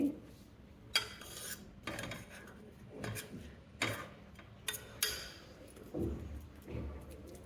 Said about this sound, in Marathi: आता हे पुरण आता हे जाळीमध्ये काढून घेते